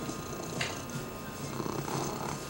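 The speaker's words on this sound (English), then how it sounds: "And a big loud purr from Missy." A cat purring loudly up close, a continuous low rumbling throb that runs steadily throughout with slight rises in strength and no talk over it.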